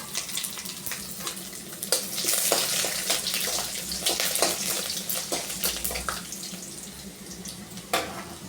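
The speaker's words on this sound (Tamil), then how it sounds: "இப்போ வந்து நம்ம கடுகு, சீரகம், பூண்டு, வெங்காயம் இதெல்லாம் போட்டு தாளிச்சிடலாம்" Mustard seeds, cumin, garlic and onion tempering in hot oil for coriander thokku, a dense continuous sizzle with sharp crackling pops scattered throughout, close and fairly loud, with no talking.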